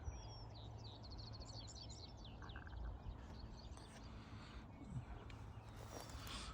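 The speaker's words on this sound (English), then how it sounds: "The birds are just singing away." Birds chirp and sing faintly in the distance over a quiet farm pasture where cattle and sheep are kept, their short tweets scattered over a low background with soft movement noises.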